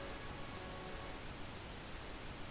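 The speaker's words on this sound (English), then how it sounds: "hopefully we'll be able to hear the white noise now" Steady hiss of white noise from a Unity game, dense and unbroken across the whole stretch at a low, even level with no other sounds.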